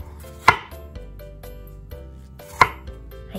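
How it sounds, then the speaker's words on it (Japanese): A knife cuts persimmon into bite-sized pieces on a board: two sharp, loud chops about two seconds apart, with softer slicing taps and scrapes between them. "そしたらこちらを一口大にカットしていきます"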